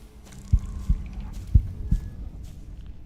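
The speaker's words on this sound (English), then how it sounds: "Oh, I hear like a heartbeat too." A slow, muffled heartbeat thuds in a dark video game, The Thaumaturge, with four soft, evenly spaced beats over a quiet ambient hum.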